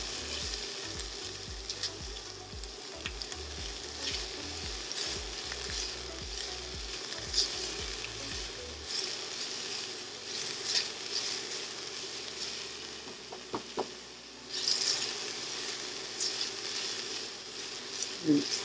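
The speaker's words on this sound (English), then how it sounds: "I'm going to stir it for about 30 seconds to a minute or so to get that fragrance into the air." Aromatics including pepper sizzle in a pan as the base for red quinoa, stirred with soft scraping over a constant moderate frying hiss; a low hum drops out partway through.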